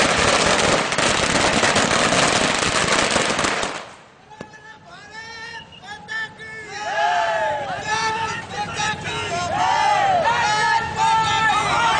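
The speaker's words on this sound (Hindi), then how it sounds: "साथ ही पटाखे फोड़े।" Firecrackers burst in a loud, dense, rapid barrage during a street celebration at a statue in Sagar. After about four seconds they stop abruptly, leaving a crowd chattering and calling out nearby.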